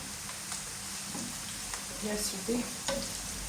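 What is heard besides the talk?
vegetables frying in a pan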